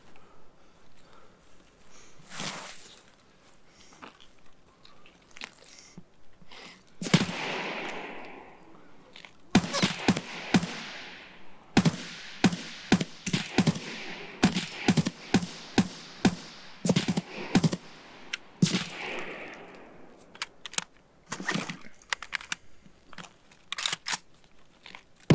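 Semi-automatic gunfire in the shooter game Escape from Tarkov, a series of sharp separate shots spaced irregularly, some in quick pairs, with a few louder bursts and quiet gaps between.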